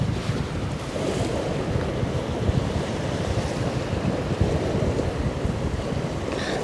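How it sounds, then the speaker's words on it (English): Strong wind blows by the water at the Westerschelde estuary in the Netherlands, buffeting the microphone with steady gusty rumble while waves wash underneath, loud and continuous with no voices. "Yeah, it's quite windy today, but it's nice."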